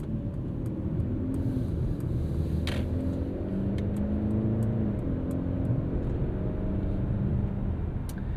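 A 2022 Mercedes-Benz C300 4MATIC mild hybrid engine hums and rumbles steadily from inside the cabin, rising gently in pitch as it pulls away, with faint ticking in the background.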